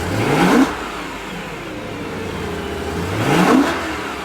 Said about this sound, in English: anytime anyone thinks about one of the best sounding BMWs, they go to the S65, they go to the E9X